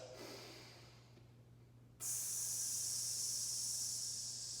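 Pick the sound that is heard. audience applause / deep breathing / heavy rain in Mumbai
deep breathing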